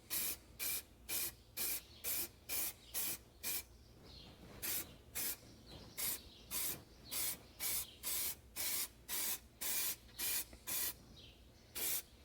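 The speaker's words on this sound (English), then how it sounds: "squirt a little paint on this stuff" Short bursts of spray paint hiss from a can onto a 1986 Chevy K30 truck dash, about two dozen evenly spaced close squirts in a steady rhythm with brief pauses between.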